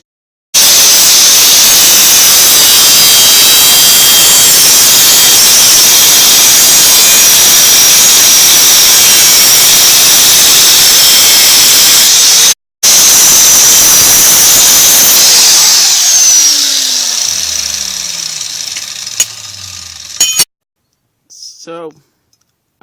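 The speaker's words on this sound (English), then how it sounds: "Main thing at the moment that I need is this angle grinder, so let's get to cutting." An angle grinder cutting metal pieces for a small lawnmower frame in a workshop, a loud continuous high-pitched whine with a brief break, then winding down and fading to near silence.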